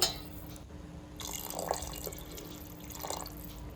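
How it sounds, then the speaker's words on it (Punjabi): Half a jug of water poured into a potato and pea curry in a pressure cooker, giving a faint, quiet trickle with light splashing and drips throughout. "ਹੁਣ ਪਾਵਾਂਗੇ ਸਬਜ਼ੀ ਵਿੱਚ ਪਾਣੀ ਪਾਣੀ ਆਪਾਂ ਸਬਜ਼ੀ ਵਿੱਚ ਪਾਣਾ ਹੈ ਅੱਧਾ ਜੱਗ"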